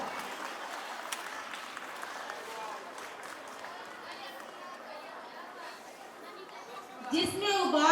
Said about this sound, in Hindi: सबको धन्यवाद देंगे, जोरदार तालियों के साथ।